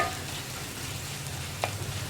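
Turmeric powder stirred in a hot pan for a cauliflower curry, a steady soft sizzle with a faint scrape of the spoon against the pan near the end, close and fairly even.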